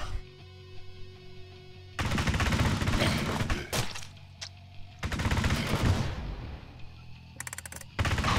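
Rapid automatic machine-gun fire in a video game, a high-rate weapon firing several loud sustained bursts of a second or more, separated by short pauses, with a quick final burst.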